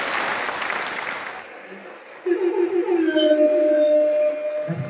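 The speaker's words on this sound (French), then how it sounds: "On veut vraiment avoir des applaudissements pour cette belle dame qui a réalisé l'activité" Applause breaks out for a woman at an African Thanksgiving community event: a dense burst of clapping that fades after about a second and a half, giving way to quieter tonal sounds.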